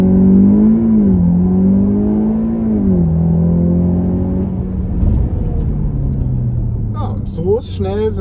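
A VW T-Roc R (300 PS) engine holds a steady 4000 rpm, then roars as the car launches with launch control and accelerates hard, with a voice talking over it near the end.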